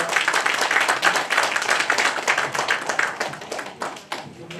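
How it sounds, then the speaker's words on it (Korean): An audience at a year-end award ceremony for a journalists' association breaks into steady, dense applause after a plaque is presented, many hands clapping together, loud and close, tapering slightly toward the end. "뜨거운 박수 부탁드립니다"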